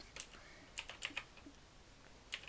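Computer keyboard typing during a multiplayer Unturned game chat: a few short, irregular bursts of quiet key clicks spread across the moment, with no talking.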